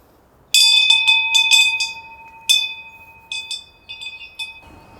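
A small bell in a front garden is struck several times in irregular bursts, each bright ring decaying into a sustained tone, clear and fairly close with no talking.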